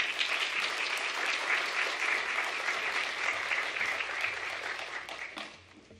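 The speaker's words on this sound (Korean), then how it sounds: "목사님 나오실 때 우리 박수로 웰컴하도록 하겠습니다." A church congregation applauds in welcome as a visiting pastor, a retired seminary professor, comes forward for the Sunday sermon; dense, steady clapping fills the room for several seconds before tapering off.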